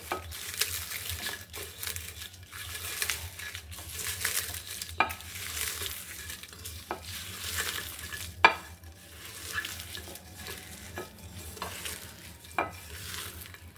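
Egg and fish bhorta is kneaded and mixed by hand, giving soft wet squelching and smearing sounds with occasional sharper taps against a bowl, close and steady throughout.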